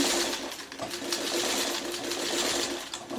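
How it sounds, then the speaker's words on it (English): A sewing machine running steadily while stay stitching fabric, its needle chattering at an even, close, continuous rate with no voice over it. "sewing is called, I think this is called stay stitching"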